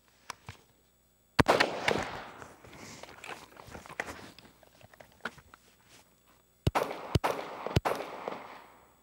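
Several sharp shots fired at full speed in a support hand transition drill, loud bursts in two clusters separated by a lull, with echoing decay and scuffling between.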